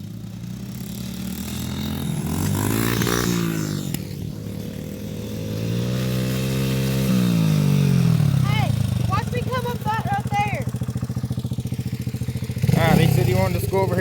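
Dirt bikes ride rural country routes, their engines droning and revving nearby, rising and falling in pitch as they accelerate and pass, mixed under a voice talking.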